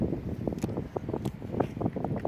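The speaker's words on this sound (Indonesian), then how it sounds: "ini kondisi anginnya kencang banget" Strong gusting wind blows outdoors at a boomerang throwing spot, buffeting the microphone in uneven rushes and low rumbling bursts.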